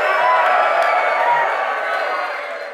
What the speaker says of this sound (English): I'll ask all of you to make a lot of noise.